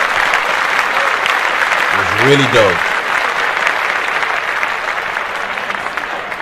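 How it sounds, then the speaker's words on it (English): Studio hosts on a podcast clap in a burst of applause that carries steadily across the whole stretch, with one voice speaking briefly partway through. "Let's clap that up."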